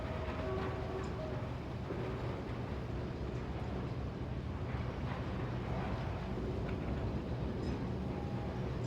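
Portal 2's sab.factory_1 factory soundscape: a steady, dense industrial rumble with machinery hum and faint clanks throughout, no pauses, no voices.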